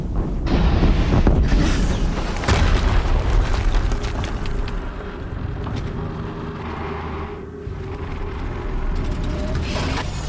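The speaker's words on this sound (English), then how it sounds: "Another explosion." A heavy explosion in the video game Horizon Zero Dawn hits with a loud booming blast, then rolls into a long, dense rumble of fire and debris that stays strong for about ten seconds.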